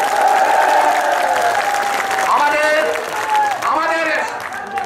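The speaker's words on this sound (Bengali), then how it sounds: "করতালি দেওয়ার জন্য অনুরোধ করছি।" Crowd applause at a district BNP political rally, a broad wash of clapping running underneath a loud amplified voice speaking over a public-address system.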